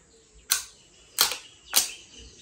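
An Insta360 One RS camera gives three crisp, clicky chimes at power-on, each a short sharp burst spaced about half a second apart, close and clear against near silence.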